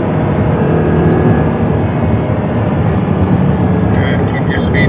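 An Audi R8 accelerates hard on a race track, its engine giving a loud, steady, unbroken roar that fills the whole clip.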